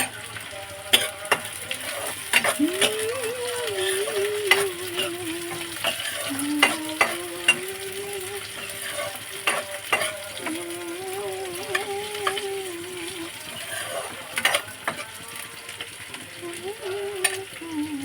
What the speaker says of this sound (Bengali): মাছ ভাজাটা হয়ে গেছে, পেঁয়াজ ভাজা বসিয়ে দিয়েছি।